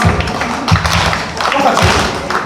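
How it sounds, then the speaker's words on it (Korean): Rhythmic audience clapping at an evening church praise event, with steady thudding claps in a regular beat and a voice briefly heard over them. "박수."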